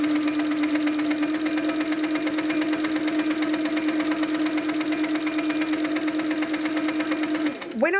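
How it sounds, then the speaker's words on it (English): An HQ Sweet Sixteen quilting machine stitches steadily and close, a fast even mechanical chatter with a sustained motor hum that runs unbroken for several seconds, then winds down and briefly stops at the end. "So let's just start stitching a little bit."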